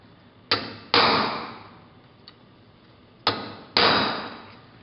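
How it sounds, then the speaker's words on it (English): Four sharp metallic hammer blows on a transfer punch in two quick pairs, each strike ringing briefly before dying away, close by with quiet between pairs. "give it a good hit with the hammer"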